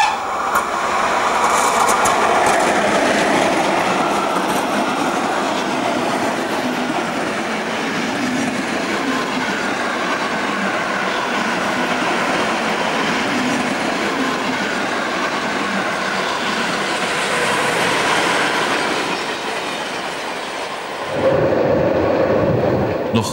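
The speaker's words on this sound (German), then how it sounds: "Bei der Beförderung eines Interzonenzuges hat die 119 eine adäquate Zugleistung zu erbringen. Schub leistet eine Baureihe" A DB class 119 locomotive hauls an interzonal train with a class 194 pushing at the rear, giving a loud, continuous rumble and clatter of passing wagons with no talk. The sound dips briefly near the end, then returns.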